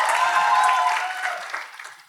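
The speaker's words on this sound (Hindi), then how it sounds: "ये किस लिए ताली मारी थी?" An audience at a cinema and theatre talk event breaks into a short burst of applause, a dense mass of clapping heard from slightly away. It fades out over about two seconds.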